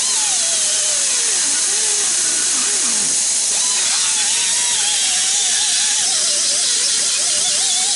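A power tool bores out the center hole of a brake booster for a master cylinder swap, giving a continuous close, loud whining squeal that wavers in pitch throughout.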